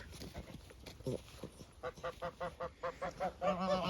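Geese honk in a rapid run of loud, nasal calls near the microphone, building into overlapping honks at the end, with some speech-like sounds mixed in.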